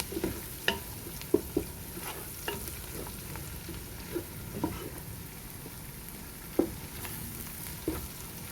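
Pork binagoongan sizzles quietly in a pan with chili and tomato paste, with soft continuous frying broken by irregular scraping stirs of a utensil.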